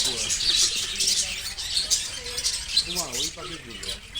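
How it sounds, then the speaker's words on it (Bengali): Busy outdoor bird chatter with chirps and calls in a nature park in Kolkata, a few lower cooing-like pigeon calls near the end, steady background throughout. "তারপরে দেখতে পাবেন কিছু পায়রা।"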